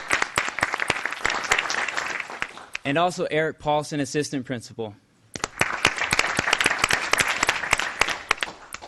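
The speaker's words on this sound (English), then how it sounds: "Everyone, if you could please give him a round of applause." Applause at a school board of trustees meeting, sharp sustained clapping from the audience, broken in the middle by a man announcing a name before the clapping resumes just as strongly.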